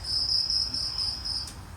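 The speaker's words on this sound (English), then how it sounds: "Now this voice is for an insect called cricket, the favorite food for this owl." A cricket recording plays from a cassette recorder outdoors. It gives a steady, shrill, high trilling chirp in rapid pulses, fairly loud and close, with no talk over it.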